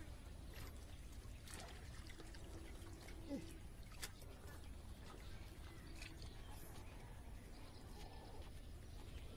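Fresh water flowing into a jute retting pond: a faint, steady trickling and pouring wash with occasional bird calls in the background, continuous and low in level.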